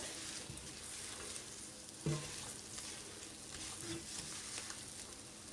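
Spiced liver (kaleji) masala with carom powder sizzles quietly in a pan, a soft continuous frying hiss with a brief louder stir or clink midway, no talk.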